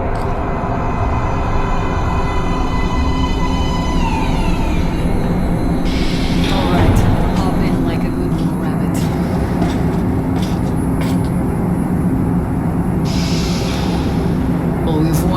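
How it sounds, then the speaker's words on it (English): A metro train in the video game Metro Last Light Redux rumbles loudly into a station with a steady low roar and high metallic squeals and whines layered over it. "Please step away from the edge of the platform. Train coming in."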